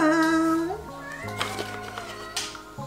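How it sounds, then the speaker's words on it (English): A house cat meows close by, a drawn-out call near the start followed by quieter sounds, with a person speaking over it. "Stop meowing, please."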